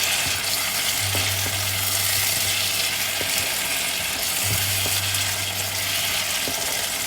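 Curry powder and curry leaves sautéing in a pan for fish curry give a steady loud sizzle throughout, with a low hum and occasional stirring knocks, close and with no speech.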